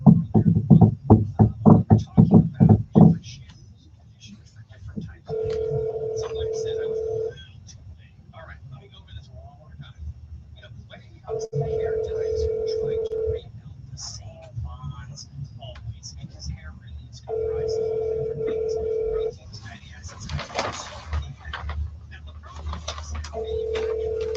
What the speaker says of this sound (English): Calling Gary Wheeler. Other phone.